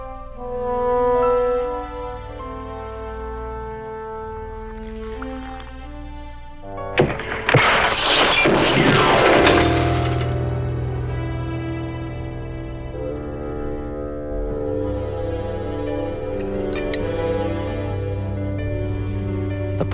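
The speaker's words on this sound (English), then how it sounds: "The pot had smashed into..." Pots smashing in Broken Sword 2, a single loud crash of shattering pottery breaking through calm game music, then fading back to the music.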